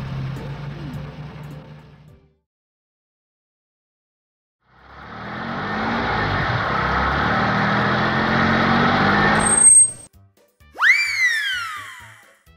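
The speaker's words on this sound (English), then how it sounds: "Yellow garbage truck." A yellow garbage truck's engine drones steadily for several seconds after a brief quiet, then stops with a hiss, followed by cartoonish descending boing sounds.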